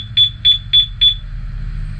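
Anti-theft alarm on a Yamaha Aerox 155 scooter gives four short, evenly spaced high beeps on locking by remote, loud and close over a low steady background rumble.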